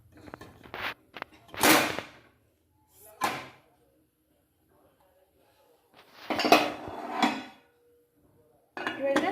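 A cake tin is set into a preheated pressure cooker with its rubber gasket and whistle removed, producing several separate metallic clanks and scrapes of cookware between quiet pauses.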